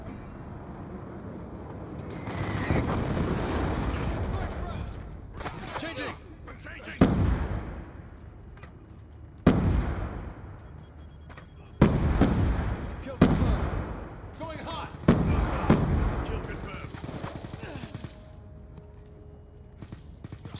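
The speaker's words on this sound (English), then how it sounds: "Friendly Hellstorm missile inbound." Several heavy explosions from a Hellstorm missile strike in Call of Duty Black Ops II, a series of loud booming blasts spaced a few seconds apart amid game battle noise and occasional shouted voices.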